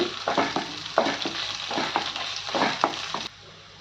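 A tempering of mustard seeds, cumin and curry leaves fries in hot oil for upma, a close busy crackle with repeated stirring scrapes that stops abruptly near the end.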